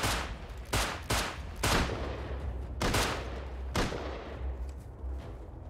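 Repeated gunshots crack out in the Rust survival video game, several sharp loud bursts spaced irregularly over a steady low rumble, with no talking.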